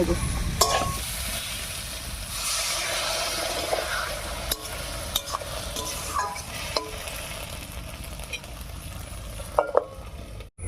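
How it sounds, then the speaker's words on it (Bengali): Ground spice paste with water cooks down in a covered pan with tomato, potato and taro for a fish-head curry, giving a steady broadband sizzle with scattered scraping clicks throughout. "এর মধ্যে মশলা বাটা জল দিয়ে ঢাকা দিয়ে দিয়ে খুব ভালো করে কষিয়ে"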